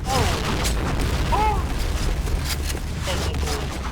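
Explosions rumble through a first-person shooter match in a steady low roar, with repeated dull booms and scattered crackles under fast talk.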